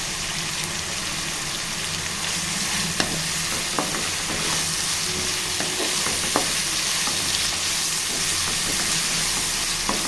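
Green chillies frying in a pan while cooking a Telangana-style egg curry, a steady broad sizzle with faint stirring clicks throughout, no voices.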